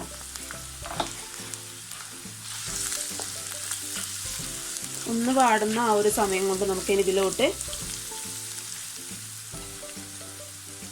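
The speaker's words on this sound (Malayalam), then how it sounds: "അത് ഈ എണ്ണ ചൂടാകുന്ന സമയത്ത് നമുക്കിതിലോട്ട് ഇട്ട് കൊടുക്കാം." Garlic, ginger and green chillies fry in hot oil with a steady, soft sizzle and crackle throughout, while a person talks over it.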